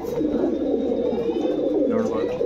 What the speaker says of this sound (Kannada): ಒಳ್ಳೆ ಪಿಜನ್ನು